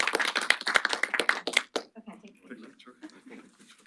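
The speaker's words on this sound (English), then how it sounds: "we'd like to give a round of applause," An audience at a hospital pharmacy program graduation gives a short, brisk burst of rhythmic clapping that fades out quickly, followed by quieter room murmur.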